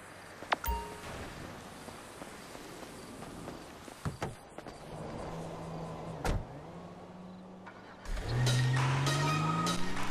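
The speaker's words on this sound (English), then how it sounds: "That's the garbage truck." A garbage truck in Grand Theft Auto V: quiet street ambience with a few clicks and thumps, then a loud, heavy engine and mechanical whine that rises in pitch over the last two seconds.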